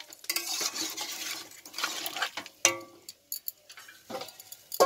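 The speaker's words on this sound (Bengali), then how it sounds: "দেখো, তারপর আমি এটাকে একটু নাড়াচাড়া করে নিচ্ছি, দিয়ে আমি এটাকে এবার চাপা দিয়ে দেবো।" Vegetables for a vegetarian panchratna dish are stirred in a pot with irregular scraping and clinking strokes, then a few sharper knocks as a lid goes on; close, moderately loud, no talk.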